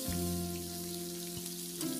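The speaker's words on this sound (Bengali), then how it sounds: "এর মধ্যে আমি টমেটো কুচিগুলোকে অ্যাড করে দিলাম তেলের মধ্যে" Chopped tomato fries in hot oil in a kadai, a close, steady sizzle holding evenly through with a faint background hum and no talk.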